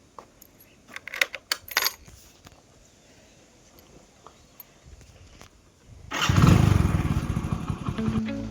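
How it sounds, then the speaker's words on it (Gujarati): A Hero Splendor motorcycle sits through a quiet stretch of scattered clicks and knocks, then its engine roars up loudly and close near the end and keeps running steadily. "આપણે હવે આ બાઇક લઈને જઈએ છીએ. આપણી બાઇક હીરો સ્પ્લેન્ડર."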